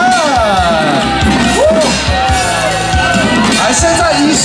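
A festival crowd cheers, whoops and shouts to welcome the Su family Fude Zhengshen deity at a temple procession in Xiaogang, Kaohsiung. The dense, loud hubbub is steady throughout and threaded with warbling high tones.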